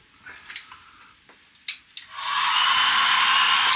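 A hair dryer plugged into a campervan's kitchen-side socket switches on after a few knocks and clicks, then blows in a steady, loud, airy whoosh that holds to the end.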